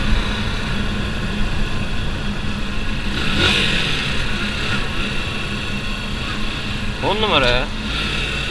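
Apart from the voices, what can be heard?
Yamaha YBR 125 motorcycle riding in third gear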